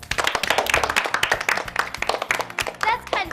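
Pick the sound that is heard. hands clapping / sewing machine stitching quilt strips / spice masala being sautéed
hands clapping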